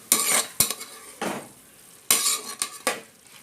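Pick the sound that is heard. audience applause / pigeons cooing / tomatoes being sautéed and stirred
tomatoes being sautéed and stirred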